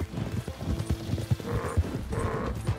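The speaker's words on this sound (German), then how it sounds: "Na komm, reiten wir durch die Wildnis, du altes Maultier" A mule ridden through the wilderness in Red Dead Redemption 2, its hooves clip-clopping in a steady, close rhythm, with a brief whinny-like call and no talking.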